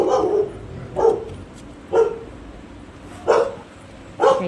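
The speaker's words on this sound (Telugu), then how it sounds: "మనిషిని చూసేసరికి వచ్చేసి అరుస్తున్నాడు" A dog barks five times at a steady pace, loud and close, with short gaps between each bark.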